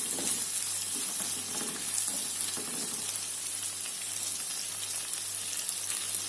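Green chilies, bird's eye chilies and curly red chilies sizzle in hot oil with stink beans while being stirred, a steady close frying crackle with scraping stir sounds throughout.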